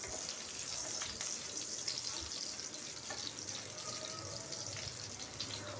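Nigella seeds (kalo jeera) frying in hot oil in a pan give off a steady, fairly quiet sizzle with faint crackles and occasional stirring noises, and no one speaks.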